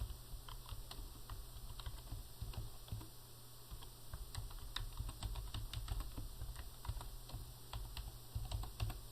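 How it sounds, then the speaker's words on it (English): Someone typing an address on a computer keyboard, a fast, continuous run of close, light key clicks with small pauses, quiet and alone with no talking. "I'll click after total training, and I'll type in an address"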